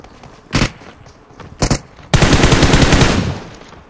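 PUBG Mobile gunfire: two short bursts of shots, then a sustained loud automatic volley of about two seconds that rattles rapidly before trailing off, close and alone with no talk.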